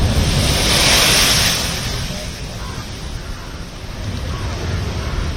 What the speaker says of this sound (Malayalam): കൂറ്റൻ തിരമാലകൾ തീരത്തേക്ക് അടിച്ചു കയറുകയാണ്.